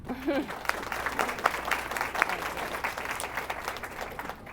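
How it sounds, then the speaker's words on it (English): An audience claps steadily for several seconds, a dense patter of many hands at moderate volume, with a brief voice at the very start. "let's all give an applause for Heather to put this together"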